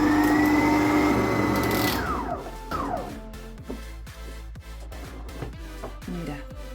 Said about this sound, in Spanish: Ahora a la amasadora hasta que esté suave y ya está.